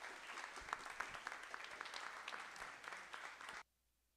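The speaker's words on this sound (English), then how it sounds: "But another round of applause" Audience applause after a storytelling and mountain music performance, a steady wash of clapping from a crowd lasting several seconds before cutting off abruptly into silence.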